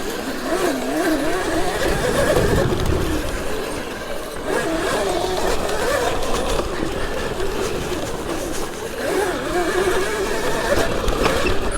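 A modified mini dirt bike engine drones steadily while being ridden across a grassy public park, its pitch rising and falling with the throttle, loud and close, with steady wind and road rumble underneath.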